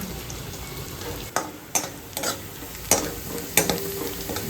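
Onions fry and sizzle in a pan for upma, a continuous close crackle broken by several sharp clanks and scrapes of a stirring spoon, no talking.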